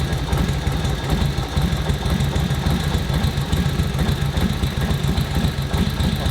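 A 1941 Harley-Davidson WL engine idles close by with an uneven, lumpy low thump and slightly irregular firing pulses, steady throughout with no talk.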